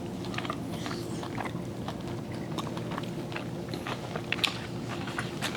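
Close crunching bites into fresh raw Maui sweet onion, a string of crisp, irregular snaps over a steady hum of restaurant background noise at a Honolulu eatery.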